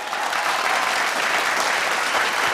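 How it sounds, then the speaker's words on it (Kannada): Loud, dense applause from a TV studio audience, thick clapping that holds steady and close for the whole stretch, with no talk over it. "ಜೋರಾಗಿ ಚಪ್ಪಾಳೆ"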